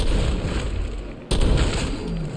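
A shotgun blast in Fallout 4 lands as a sudden booming shot midway through, cutting through a loud low rumbling game ambience, followed by a heavy lingering tail.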